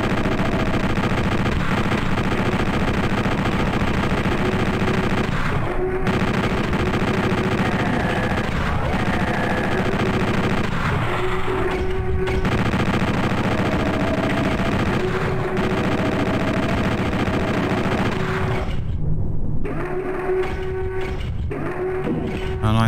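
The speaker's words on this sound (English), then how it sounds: "And probably time for the minigun" Sustained rapid-fire chain gun in PlayStation Doom, a dense continuous roar of shots mixed with loud game noise throughout, briefly dropping out near the end.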